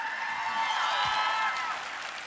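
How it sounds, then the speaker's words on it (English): A Comic Con panel audience applauds and cheers, a broad crowd roar of clapping with some whooping that swells and then slowly eases over two seconds. "Yes, please clap."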